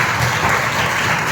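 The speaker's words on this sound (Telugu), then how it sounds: "అందరూ కూడా చప్పట్లతో దేవుని స్తుతిద్దాం" A church congregation at the Feast of Our Lady of Mount Carmel claps in praise, producing a brief, loud and dense wash of applause from many hands.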